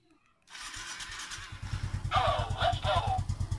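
A Suzuki Smash motorcycle fitted with a talking alarm is started, its engine catching after a brief crank and settling into a steady, close putter, with a short electronic chirp from the alarm layered over the running engine.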